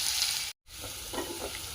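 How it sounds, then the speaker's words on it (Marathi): Onions fry in a hot pan with garlic paste for paneer bhurji, giving a steady close sizzle with a brief cut to silence partway through and soft stirring scrapes after it. "याला फ्राय होऊ देऊ मस्त कांद्याला।"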